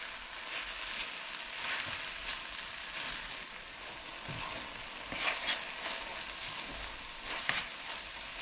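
Fresh cilantro stir-fried in a pan makes a faint, hissing sizzle, with soft intermittent scrapes and stirring sweeps that come and go at a low, even level.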